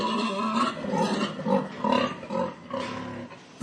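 Pigs inside a pig barn at dawn, a dense chorus of grunts and squeals rising and falling in overlapping bursts, close and fairly loud throughout.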